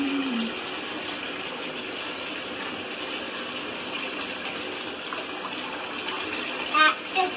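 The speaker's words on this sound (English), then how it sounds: "Hunter was like moving the water and swimming around" Bathwater with a bath bomb in it sloshes and gushes steadily as a child moves and swims around in the tub, a continuous watery wash with a few splashy bursts near the end.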